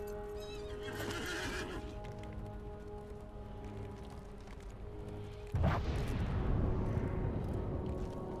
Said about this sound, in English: Right, let's get on the horse.